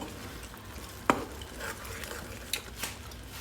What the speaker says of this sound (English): And we're gonna stir.